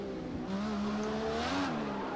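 IndyCar spinning out in Project Cars 2 at Long Beach, with sharp wavering tire squeals sliding up and down in pitch over a running engine, close and fairly quiet, with no talk.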